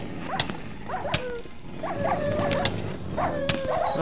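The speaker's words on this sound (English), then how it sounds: "Oh, so many dogs, so many dogs." Several dogs in a Minecraft arena match bark and yip in quick bursts, some overlapping, with a few sharp snapping hits among them and a low game background throughout.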